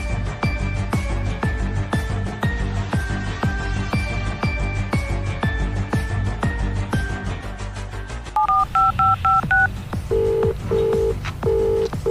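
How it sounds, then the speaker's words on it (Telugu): Phone keypad being dialed, a long run of evenly spaced electronic beeps followed by short paired dialing tones and then a few sustained steady tones, near and clear with no talking. "ఇప్పుడు ఫోన్ చేస్తున్నావు?"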